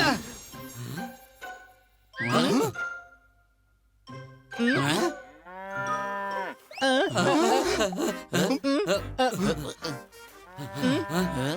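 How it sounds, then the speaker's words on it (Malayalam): A cartoon buffalo's deep mooing call rises amid animal noise and a faint jingle of bells, with voices breaking in between the calls. "എടാ ഇത് പോത്ത് തന്നെയാ."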